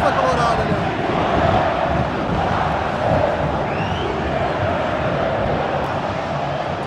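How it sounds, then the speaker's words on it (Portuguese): Internacional supporters roar and celebrate inside the Beira-Rio stadium after a Grenal win over Grêmio, a loud, dense crowd noise that carries on without a break, with chanting voices and shouts mixed through it. "Olha a festa, o carinho da torcida colorada."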